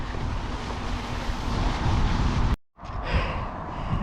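Strong wind blows outdoors, a steady, loud, rushing roar that buffets the microphone, cuts out for a split second, then returns just as strong.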